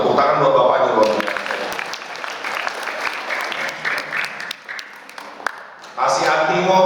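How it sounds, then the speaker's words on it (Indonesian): Audience applause at a Maulid Nabi gathering in a mosque, steady dense clapping filling most of the stretch, dipping mid-way with speech layered on top, then swelling loud again at the end. "Tepuk tangan buat Bapaknya luar biasa"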